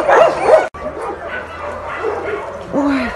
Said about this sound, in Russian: все гавкают там что-то